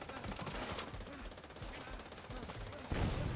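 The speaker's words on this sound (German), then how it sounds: "wo schießt denn der her? Was? Die schießen von oben." Gunfire in The Division 2 rattles in dense, rapid bursts under game sound effects at moderate level, with a louder burst near the end.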